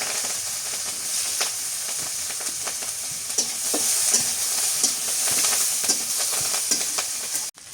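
Chopped onion and green chilli sizzle in hot oil in a village kitchen after fish frying, a steady hiss broken by repeated stirring scrapes and clicks, close and alone with no talk.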